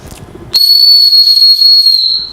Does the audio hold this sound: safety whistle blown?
yes